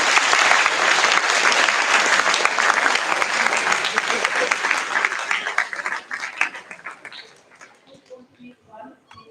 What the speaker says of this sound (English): Then also a big round of applause to both the teams.